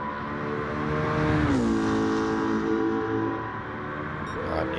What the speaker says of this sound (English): It's got the Voodoo engine in it.